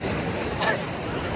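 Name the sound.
ocean waves at Kanyakumari beach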